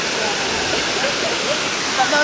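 A waterfall in Jamaica roars in a loud, steady rush of water that fills the whole span, near and continuous, with faint sounds that may be voices or birds on top.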